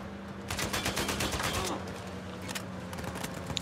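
Gunfire in the PS4 game Uncharted 4: A Thief's End, rapid bursts of shots rattling for about two seconds then thinning to scattered cracks, moderately faint.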